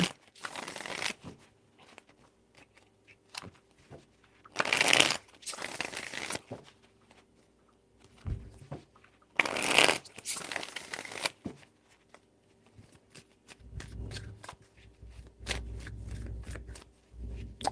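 Tarot cards being shuffled by hand in bursts of riffling and sliding, three distinct rounds with soft crinkly handling noises between them, close and fairly quiet.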